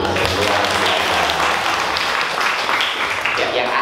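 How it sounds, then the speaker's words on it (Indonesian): Audience applause at an Indonesian storytelling workshop, a steady dense wash of clapping filling the room throughout, with voices murmuring underneath. "Kita beri aplaus dulu."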